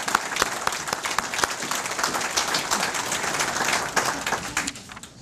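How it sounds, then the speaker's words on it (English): An audience at an American Legion community service awards evening breaks into hearty applause, dense steady clapping from a crowd that holds for several seconds before tapering off at the end. "give your family members that's here tonight a hug and a hand clap for their support"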